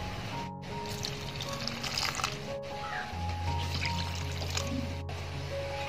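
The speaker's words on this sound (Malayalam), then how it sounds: "ഇനി അടുത്തായതിലോട്ട് ചേർക്കുന്നത് പച്ചവെള്ളം തന്നെയാണ്. പച്ചവെള്ളം ഞാൻ 3 കപ്പോളം ചേർക്കുന്നുണ്ട്" About three cups of plain water are poured into a pan for a rice-flour batter, a soft, close trickling pour running steadily at low level.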